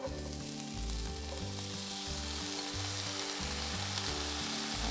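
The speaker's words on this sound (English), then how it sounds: "that's going to get the sizzle going a lot" Black beans sizzle and fry in a hot pan with a constant bright, crackling hiss, close and steady throughout, and a low rhythmic thumping runs underneath.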